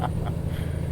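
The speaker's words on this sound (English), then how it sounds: "Push my low intensity horn." Low-intensity truck horn in the American Truck Simulator driving game: a steady, deep droning tone that holds loud and unbroken for about a second, with no talking.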